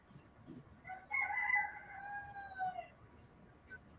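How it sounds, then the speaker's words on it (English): A rooster crows once on a porch before daylight, a single drawn-out cock-a-doodle-doo at middle distance, moderately loud over a quiet background. "That's Ernie's chickens."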